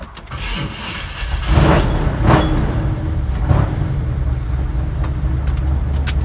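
A 1974 Chevrolet Nova four-door race car engine cranks and catches, then settles into a steady, loud, close idle with a deep rumble and faint rattling on top.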